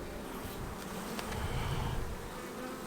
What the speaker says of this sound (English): Dang, wasps are going nuts.